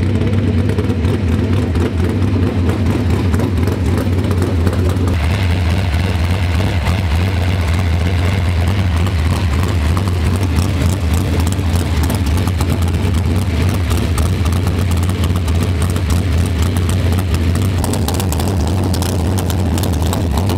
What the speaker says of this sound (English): Harley's running the forklift,